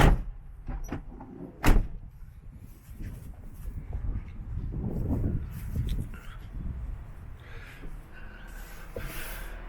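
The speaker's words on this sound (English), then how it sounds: "let me shut these doors and go round" A heavy van door slams shut with a sharp thud near the start, followed by shuffling and rustling movement nearby.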